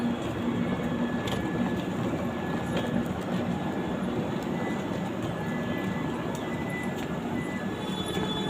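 A passenger train ride heard from inside the carriage, a loud steady rumble of wheels on track with faint clicks and a thin high whine throughout, no talk.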